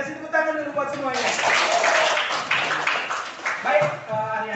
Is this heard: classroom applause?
yes